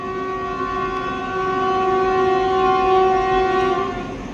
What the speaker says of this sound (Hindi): ये आ रही जम्मू तभी MGR Chennai central Andaman express overtake कर रही है हमारी ट्रेन को